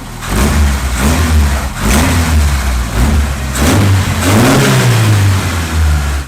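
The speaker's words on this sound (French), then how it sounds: "Signe d'un moteur rugissant." A Seven16 car engine, roaring hard enough to brown the exhaust pipe with heat, revs loudly and close in several rising surges with brief dips between them, and no voices are heard.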